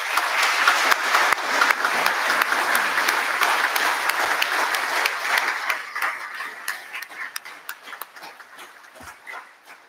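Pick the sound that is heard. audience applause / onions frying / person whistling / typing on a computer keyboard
audience applause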